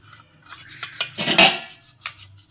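A knife scraping around egg pudding in a cooking pan makes a few close metallic scrapes and taps, with one louder grating stroke in the middle and quiet gaps between.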